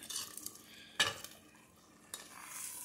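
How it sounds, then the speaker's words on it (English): Beans stirred with a spoon in a pot, a scraping swirl with a sharp clink of metal against the pot near the start and another knock later, close and unaccompanied by talk. "Let's grab the spoon. And swirl these delicious beans."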